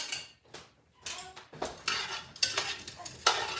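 Potatoes tossed with olive oil in a skillet give off a run of close scraping, clattering utensil-and-pan sounds in irregular bursts, with a faint sizzle underneath.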